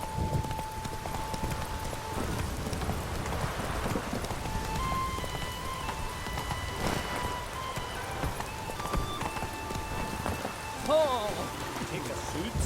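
Horse hooves clip-clop at a steady trot through falling rain in The Witcher 3 video game, the rain hissing continuously beneath the rhythmic hoofbeats, with faint game sounds and voices mixed in.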